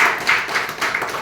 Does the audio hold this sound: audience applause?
yes